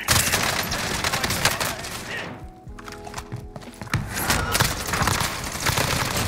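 Rapid bursts of automatic gunfire and heavy impacts from the Warzone video game, with the XM4 and Bullfrog weapons in play, continuing as a dense, loud barrage through the whole stretch with a brief lull in the middle.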